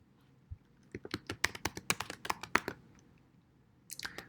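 Quick bursts of computer keyboard typing, a dozen or so crisp close key taps in an uneven run, then a short pause and a final pair of presses like a Ctrl+Enter shortcut, quiet and without talk.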